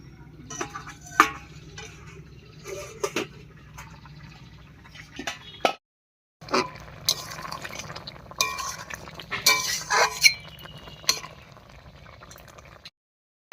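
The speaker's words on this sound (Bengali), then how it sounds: "বেশ কিছুক্ষণ ঢাকা দিয়ে রান্না করে নিয়েছি এবারে ঢাকা তুলে নিচ্ছি" A lid comes off a pot of fish cooking with soybean, followed by bubbling, dripping and light clinking of cookware at close range, with a brief silent gap midway.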